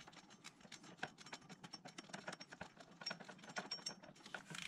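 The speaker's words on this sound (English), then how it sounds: "screw it in with a 10mm deep socket on a 1/4 inch drive." A 1/4-inch drive ratchet with a 10mm deep socket drives in a water pump bolt during timing belt work on a Mitsubishi Evo 6 TME 4G63 engine, making rapid, continuous fine clicking at close range.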